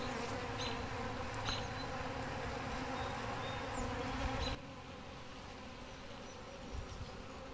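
Dense, continuous buzzing of many honey bees close by, steady throughout and slightly quieter in the second half.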